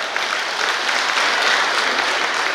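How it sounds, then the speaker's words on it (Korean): Applause from a festival audience at the opening of the 35th Yeoju Ceramics Festival, a dense, steady wash of clapping that stays loud and even throughout with no voices over it. "그분들께 큰 박수 한번 보내주시기 바랍니다."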